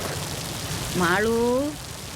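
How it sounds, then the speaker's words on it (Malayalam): Rain falls steadily with a soft, even patter in the background while a voice briefly exclaims over it. "മാളു, ഈശ്വരാ മഴ."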